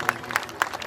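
A crowd at a village school's annual day celebration in Bhorasar claps for the children. It is a short burst of applause with a few distinct sharp claps standing out over a softer background patter, and no one speaks.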